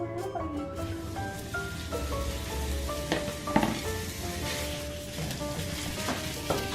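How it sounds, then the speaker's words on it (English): Extra lean ground beef browns in a skillet with a steady sizzle, broken by scraping stirs and clacks of a utensil, while faint music plays. "I'm gonna brown this ground beef and then we'll be back"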